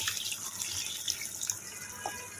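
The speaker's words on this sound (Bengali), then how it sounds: "ওখানে যেখানে গরম পানি দিয়ে দিচ্ছি" Hot water being poured in a home kitchen, a close, steady splashing stream with small drips, continuous and fairly quiet throughout.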